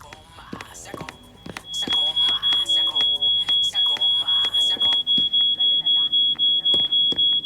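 An alarm in the video game She Could Fly starts after a stretch of talk and then beeps loudly and rapidly in a steady, continuous pulse, with a voice talking over the start.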